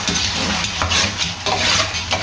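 Chicken boneless handi with green chillies and chopped coriander being stirred in a pot, giving close, scraping, wet stirring strokes over a continuous sizzle, with no voices.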